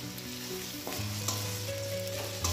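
Crushed garlic, chopped onion and green chilli fry gently in a pan for a dried-fish chutney. The sizzle is soft and steady under a faint low hum, with no talking.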